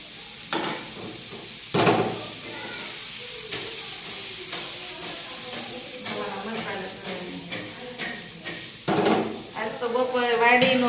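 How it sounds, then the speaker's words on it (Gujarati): Okra curry tempering sizzles in a pan while dal boils in a home kitchen, a steady frying hiss punctuated by stirring scrapes and clatter, with people talking over it. "ભીંડાનું શાકનો વઘાર થાય છે દાળ ઉકળી રહી છે"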